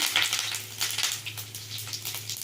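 Cumin seeds and curry leaves sizzle and crackle as they drop into hot oil for a moong dal dish. A steady, close frying hiss carries bursts of sharper spattering throughout, with no talking.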